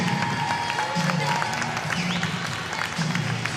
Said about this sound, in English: One big round of applause for our Fit 21 girls 10 under 100 yards freestyle top 8 finishers